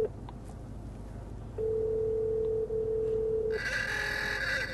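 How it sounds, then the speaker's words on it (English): A phone sounds a steady electronic ring tone for about two seconds against a low background hum, followed by a burst of brighter noise. "the phone's going to call him, and it's going to start ringing"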